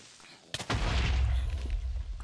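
An explosion in the video game Minecraft: a sudden sharp blast followed by a loud, sustained roaring rumble that slowly fades, heavy in the low end.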